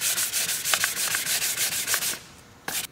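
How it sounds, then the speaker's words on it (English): Hand sanding a plastic car bumper cover with 320 grit sandpaper, a steady close rasping rub in long repeated strokes that stops briefly near the end before one more short pass. "here's how things look after sanding down with 320 grit"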